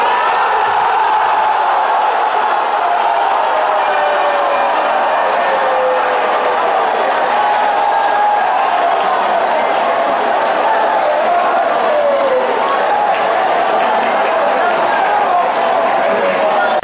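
Central fans in Brazil's Série D celebrating a 5-0 football win over Baraúnas, a large stadium crowd giving sustained, loud cheers and whoops that roll on without a break, with a commentator's voice over it.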